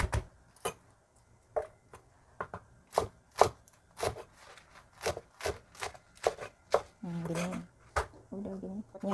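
A knife chopping mustard greens (sawi) on a board, with irregular sharp knocks, some in quick pairs and runs, close and fairly quiet, with a few faint voice-like sounds near the end.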